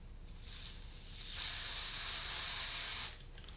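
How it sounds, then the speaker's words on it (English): Cleaner sprayed onto the crossfader leads of a Denon DJ Prime 4 DJ controller, one steady close hiss of about two seconds, with a brief faint spritz before it and no talk. "I'm gonna go ahead and try to spray these leads."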